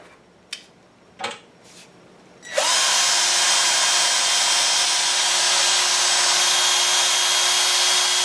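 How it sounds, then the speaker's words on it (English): A Chicago Pneumatic 12-volt cordless drill with a 1/8-inch bit bores through sheet metal: a few sharp taps and bumps, then the motor whines loudly and steadily at high speed. "Now let's pop a hole in this sheet metal."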